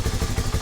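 A Rusi Flash 150X motorcycle engine idles cold with delayed combustion, a loud, close, uneven chugging pulse of low thumps repeating roughly five times in under a second.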